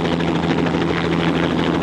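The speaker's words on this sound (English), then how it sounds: "Oh look, the helicopter is coming back." Helicopter passing overhead at an air show with a steady, loud rotor and engine roar that holds throughout, close and continuous with no talk over it.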